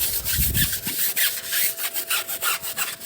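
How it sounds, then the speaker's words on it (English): A stiff-bristle brush scrubs a car tire with fast rhythmic back-and-forth strokes, a loud close raspy scratching that repeats steadily without pause. "give it a good scrub"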